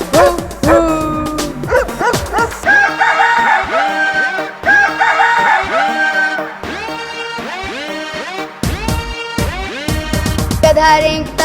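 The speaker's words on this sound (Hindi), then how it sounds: "कुत्ता बोले भू भू भू" Cartoon-style dog barks in a Hindi children's nursery song, several short bright yelps repeating over upbeat music and singing.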